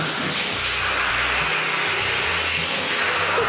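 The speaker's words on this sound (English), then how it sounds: "he's scared of the hand dryer" A public restroom hand dryer blows with a steady, loud, broadband rush of air that holds continuously from start to finish, with a low rumble underneath and no talking.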